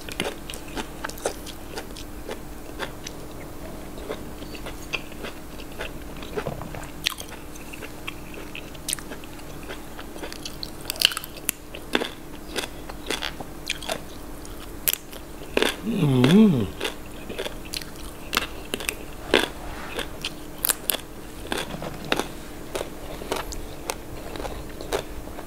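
Someone bites into crunchy fresh organic vegetables eaten with raw beef and bitter jaew dipping sauce, giving scattered close crunches and chewing clicks over a low background hum, with one louder bite in the middle.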